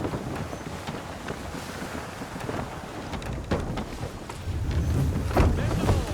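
A sailing ship runs under full sail in Assassin's Creed III, with a loud rush of wind and sea spray, surging water and heavy low rumbles building toward the end.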